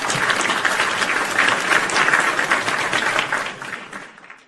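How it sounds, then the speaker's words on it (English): Steady, dense applause from a podcast's live audience rises and holds, then fades out near the end; no voices over it. "So a round of applause for that."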